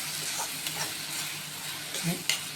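Mushroom gravy masala sautéed and stirred in a pan, a steady soft sizzle with light scraping stir strokes and a couple of brief clinks, close and moderate in level.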